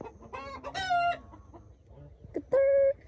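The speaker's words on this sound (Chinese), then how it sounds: "这里是我们的后院儿，家里的鸡可把小包给稀罕坏" Backyard chickens cluck close by in a quiet rural yard, a few short bursts of clucking and squawks with soft rustling between them.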